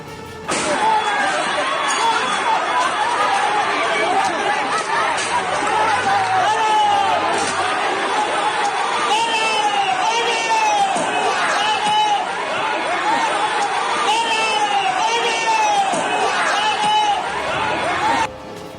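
An angry crowd of protesters in Baliya, incensed by approaching khaki-clad police, fills the air with continuous loud shouting and overlapping yelling, with occasional sharp cries rising above the dense, agitated din.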